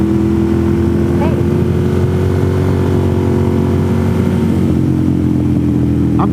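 A motorcycle cruises along a road on a chilly day, its engine a constant low drone blended with steady wind rush, heard from the rider's position.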